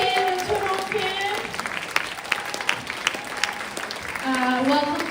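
An audience claps through the whole stretch, moderately loud, while music with sustained tones plays over it and a few sharper claps poke through near the middle.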